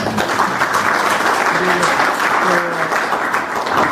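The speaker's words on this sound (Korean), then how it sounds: "한번 박수 한번 좀 쳐주십시오" Applause from the audience at a forum in Gangneung on local city issues. Dense clapping runs steadily from start to finish, with a few faint voices underneath.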